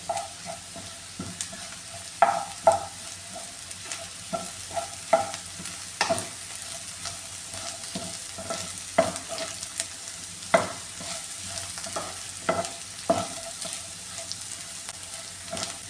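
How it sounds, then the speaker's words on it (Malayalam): Chinese potato (koorkka) frying with spices, Kashmiri chilli powder among them, sizzles softly while a utensil scrapes and stirs it in irregular clicks and knocks, close and fairly quiet, with no talking. "ഇത് നന്നായിട്ട് ഒന്ന് മിക്സ് ചെയ്ത് കൊടുക്കാണ് ചൂടാക്കി കൊടുക്കാം"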